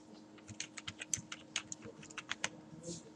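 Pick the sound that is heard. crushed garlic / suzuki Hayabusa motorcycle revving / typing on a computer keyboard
typing on a computer keyboard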